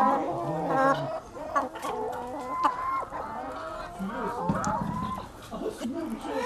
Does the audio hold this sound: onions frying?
no